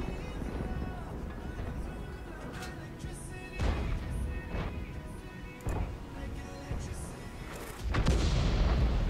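Tank cannon shots in World of Tanks gameplay: several heavy booming blasts with long rumbling tails over a constant battle din, the loudest impact near the end.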